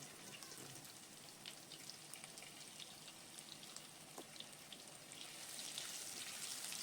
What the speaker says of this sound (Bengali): এবার আলুগুলো ভেজে নিলাম